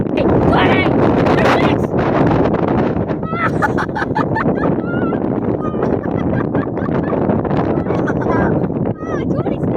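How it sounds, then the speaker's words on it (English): Strong gusty wind during a Chicago area storm, rumbling and buffeting hard against the microphone throughout, with someone speaking over the loud, continuous roar. "It's getting really windy up here."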